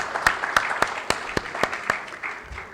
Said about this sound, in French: Je voudrais encore vous demander d'applaudir les panélistes qui viennent de passer.